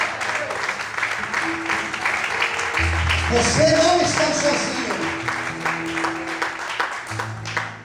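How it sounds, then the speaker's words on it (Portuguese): A church congregation applauds during a morning service, sustained clapping under organ-like sustained tones while a preacher speaks over it. "Mais fortes palmas, aleluia."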